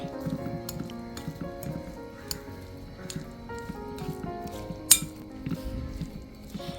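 Spoon clinking and scraping against a bowl while sweet masala corn is stirred with salt and pepper powder, a steady run of soft taps with one sharper clink, under faint background music.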